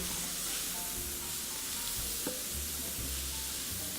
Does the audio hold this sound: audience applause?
no